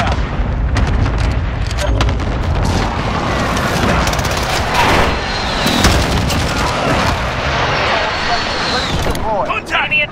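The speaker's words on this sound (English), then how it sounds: "Friendly precision airstrike inbound." Precision airstrike explosions in the Call of Duty Modern Warfare video game, heavy booms and sharp blasts repeating over a rumbling battlefield bed, with scattered gunfire and voices talking throughout.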